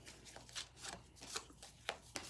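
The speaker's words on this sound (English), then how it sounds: "I'm just going to go ahead and shuffle these cards" A deck of cards is shuffled in a series of quiet, quick riffles and rustles, several short bursts close by against a faint background hum.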